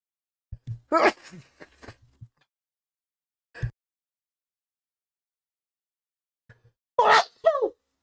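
Two sharp sneezes a few seconds apart, close and sudden, with a quiet pause between them.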